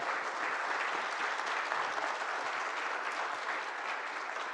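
Audience applause at a youth international forum closing ceremony in Jeju, a full, steady roar of clapping from a large hall crowd sustained evenly throughout.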